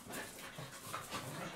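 Puppies pant rapidly and softly in close, quick rhythmic breaths over a brief, quiet moment, with no talking.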